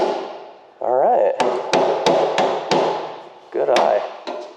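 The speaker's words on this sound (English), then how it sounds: "Seth, use the flat side of the hammer." Steel hammer tapping a sheet metal floor pan into shape during a car floor pan installation in a garage: a series of sharp metallic strikes at an uneven rhythm, close and loud, with brief spoken remarks between blows.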